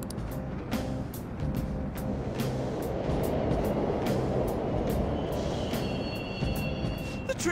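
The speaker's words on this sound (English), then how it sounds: "The trains are totally running!" Subway trains run in the Persona 5 video game, a steady, broad rumble with metallic clicks and a faint high whine toward the end, continuous and fairly loud with no voices over it.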